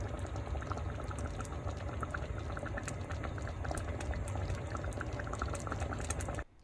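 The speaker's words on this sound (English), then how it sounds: "So it's come to a boil now." Crawfish étouffée comes to a boil in a covered pot, a dense, steady bubbling and rumbling close by with small popping ticks throughout and no voices, cutting off abruptly at the end.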